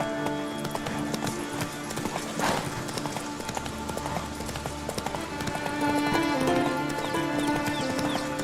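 Rhythmic clip-clop of a horse galloping in The Witcher 3, steady hoofbeats carried over a busy bed of game music and ambience, with a brief whinny partway through.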